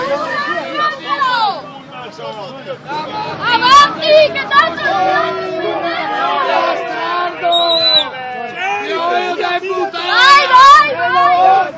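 Exasperated Padova football supporters shout and jeer after their team's defeat, a dense babble of loud overlapping voices with sharper yells rising at intervals, close and continuous throughout.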